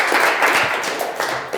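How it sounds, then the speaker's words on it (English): A short, close burst of audience applause for a female presenter at a 1 Million Cups pitch event in Rockford, steady dense clapping throughout. "let's give her another round of applause"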